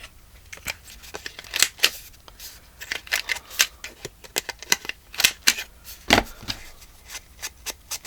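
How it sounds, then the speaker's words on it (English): Scissors snipping near a tag while working on a daisy art journal, a scattered run of sharp, close clicks and snips with uneven rhythm and brief pauses, faint rustling between cuts. "Could have just cut the tag off right there."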